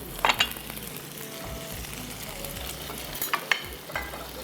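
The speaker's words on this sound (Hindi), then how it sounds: "सारे डाल दिए, सौते कर लें अच्छे से" Chicken and spices sautéing in a pan for kasturi handi, a steady close sizzle with occasional spoon scrapes and clanks, a few louder stirring bursts at the start and near the end.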